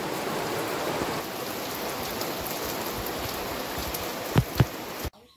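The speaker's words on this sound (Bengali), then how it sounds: "খুব জোর বৃষ্টি পড়ছে" Heavy rain pours down steadily in a rural riverside village in the Sundarbans, a dense continuous hiss of drops at moderate level, with a couple of brief louder knocks near the end before it cuts off.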